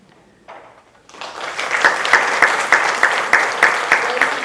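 Applause for the judging panel at a Miss Phenix City pageant rises from a few scattered claps into a full audience ovation, with one strong clapper cutting through in a steady, regular beat.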